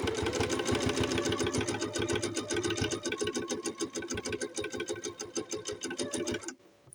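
A sewing machine stitches the waistband of a doll's pleated skirt, its needle hammering in a fast, steady, close mechanical rhythm that runs on and then stops abruptly.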